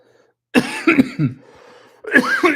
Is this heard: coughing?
yes